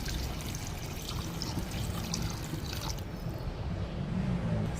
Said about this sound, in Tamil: இனி தண்ணி சேர்ப்போம்.